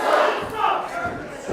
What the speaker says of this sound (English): Listen to this crowd giving it to Kevin Morgan.